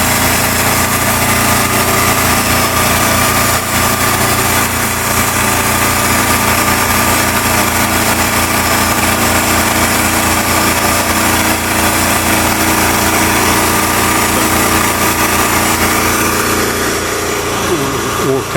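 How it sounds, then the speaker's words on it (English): A sawmill cutting white oak logs for a wood shingle mill runs loud and steady, a droning engine and blade hum with sustained tonal whine close by. "Cutting the white oak,"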